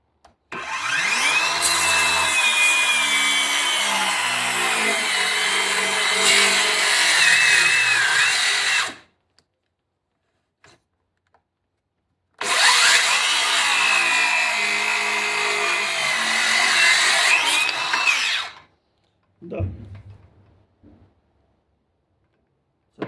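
A Dnipro-M Ultra circular saw with a 165 mm blade whines loudly through two long cuts in wood, straining under load, separated by a quiet pause, then a brief clunk at the end.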